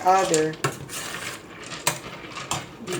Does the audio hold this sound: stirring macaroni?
yes